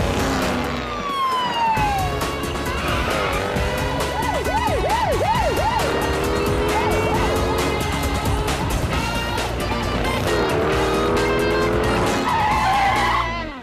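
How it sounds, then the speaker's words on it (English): Cartoon cars drag racing with screeching, wavering tire squeals over roaring engines and siren-like whines, loud and continuous throughout. "We got ourselves a drag race."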